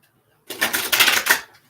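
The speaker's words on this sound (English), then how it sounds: "I'll say this too right now while I'm shuffling these cards for Monica." Tarot cards shuffled in one quick riffle, a short burst of rapid papery flutter of about a second, close and fairly loud, between silences.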